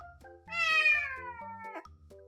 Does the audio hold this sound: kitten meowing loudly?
yes